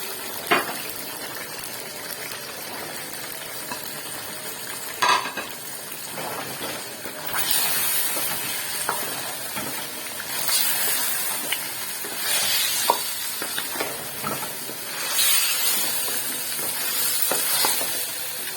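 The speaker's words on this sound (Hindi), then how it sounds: "तो अब चिकन भून चुके, तो अब हम लोग इसके अंदर साथ साथ में सब्जियां भी डालते हैं" Vegetables tossed into a pan of already-fried chicken for a mixed sabzi, giving a soft, steady sizzle with hissing surges as they hit the hot pan; moderately quiet, no talking.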